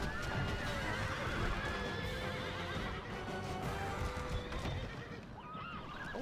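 Horses neigh and whinny amid the din of a Rome: Total War battle, with hoof clip-clop and a dense roar of fighting under them, loud and continuous throughout.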